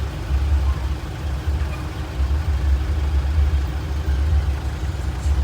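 Several vehicles idle in a traffic jam on the road to Moti Puti dam, their steady low engine rumble constant and fairly loud throughout, with no talking.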